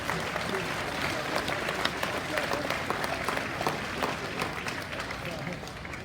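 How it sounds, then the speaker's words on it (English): An audience at a livestock show in Arizona gives steady, dense applause that fills the space, with a voice talking faintly underneath. "Let's give those kids one more Super Bowl round of applause."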